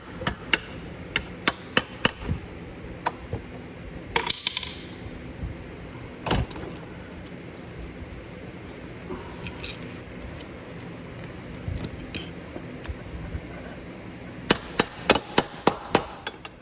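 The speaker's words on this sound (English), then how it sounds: "Just lift up, tap it in with the hammer." A hammer taps a bearing into place on an electric ATV during a chain change, sharp, uneven metal bursts, a few quick strikes, a pause with quieter knocks, then a rapid cluster of taps at the end.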